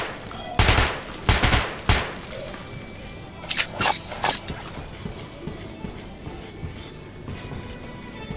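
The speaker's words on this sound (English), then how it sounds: "Feel free to try out your weapon on my firing range." Gunfire from a weapon tested on a firing range in the video game Metro 2033, with several sharp bursts of shots in two clusters, then quieter scattered clicks and clatter in the background.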